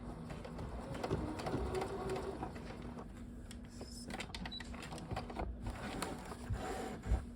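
A sewing machine stitches a seam on a half-scale jacket, a quiet, rapid mechanical whir with a steady hum that runs most of the time and slows near the end.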